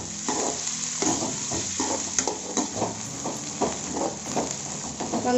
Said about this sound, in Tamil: வெங்காயம் ஓரளவுக்கு நல்லா வதங்கி வந்திருக்கு.